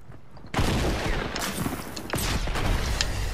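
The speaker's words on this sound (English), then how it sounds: "Oh, the odd makes fire! Oh, I get it! Dragon Breath Shotgun!" The Dragon's Breath shotgun fires in Fortnite in a dense, loud burst of blasts and crackling impacts that starts abruptly and continues as a rapid barrage without pause.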